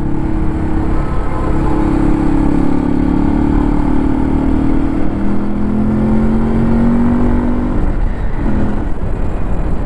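A dirt bike engine revs continuously while the rider stands on the pegs, its loud buzzing note rising and falling throughout with the close, raw sound of the motor under way.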